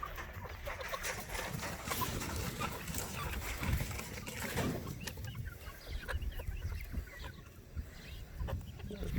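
Chickens clucking on a farm as their pen is moved onto fresh grass, steady close clucking and scratching with rustling and handling noise throughout, no talk heard.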